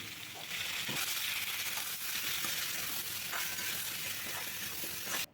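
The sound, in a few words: frying vegetables in a pan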